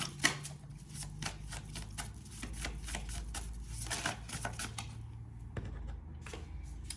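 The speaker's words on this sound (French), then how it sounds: "Alors, on va aller voir le reste du tirage" Tarot cards being shuffled, a run of soft riffling and slapping card sounds in a steady uneven rhythm, close and fairly quiet, with no talking.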